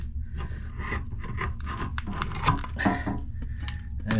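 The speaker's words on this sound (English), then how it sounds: "So now we have to scrape this old wax ring off." A putty knife scraping an old wax ring off a leaking toilet base, producing close, repeated rasping and rubbing strokes with a few sharper scrapes, steady and alone with no talk.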